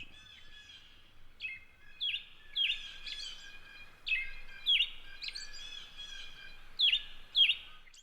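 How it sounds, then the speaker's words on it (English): An American robin sings a string of repeated clear, whistled phrases in separate bursts, carolling alone against a quiet background. "It's a string of somewhat repeated syllables, often described as sounding like cheerily, cheer up"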